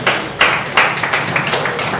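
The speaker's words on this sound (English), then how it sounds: "Can I have a huge round of applause" A short burst of clapping for quiz-show contestants during a team elimination round, several sharp, close claps over a steady hum of a small audience applauding.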